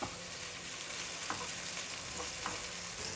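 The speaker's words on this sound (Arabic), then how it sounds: "نحرك فيها واحده واحده كده اهو عشان ما تلزقش" Strips of herring sizzle steadily in a frying pan, with a few soft scrapes as they are stirred one by one. No one talks.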